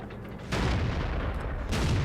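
Tank cannon shots in the World of Tanks game, a Kanzo's against a T26E4 in a 1v1 battle: two loud booming blasts about a second apart, each with a rumbling tail, close and alone.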